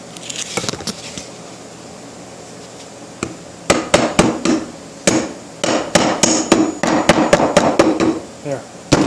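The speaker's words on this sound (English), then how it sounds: "Let me hammer it in a little bit here." Sharp hammer taps driving brads into an oak chair, scattered at first, then a quick run of close, loud strikes in uneven bursts.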